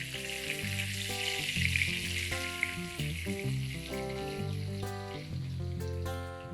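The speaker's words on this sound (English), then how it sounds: "I'm putting the paneer cubes to pan fry on medium heat" Paneer cubes pan frying in ghee over medium heat, a steady close sizzle broken by clinks and scrapes of a utensil against the pan, with music playing over it throughout.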